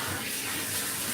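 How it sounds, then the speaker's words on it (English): Steady running water rinsing a long-haired cat during a bath, a continuous close splashing flow from a tap or sprayer with no talk over it. "let's get this water nice and warm. Rinse him off."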